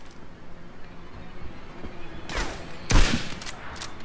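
Gunfire erupts in the video game Medal of Honor: Airborne, a couple of sharp bursts of shots over a low, busy battlefield background, loud and close.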